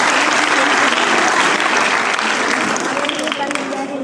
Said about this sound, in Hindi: इन सभी के लिए सामूहिक रूप से हम ताली बजाएंगे